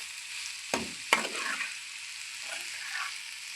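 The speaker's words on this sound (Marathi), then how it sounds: "छान 1 मिनिटभर परतून घ्यायचं" Ridge gourd stir-frying in a pan, with a soft continuous sizzle broken by two sharp spatula clanks and a few quieter stirring scrapes.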